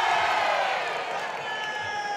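At a men's under-75 kg karate championship bout, a dense arena crowd roars and cheers, pressing for a point with loud, sustained shouting that fades slightly toward the end.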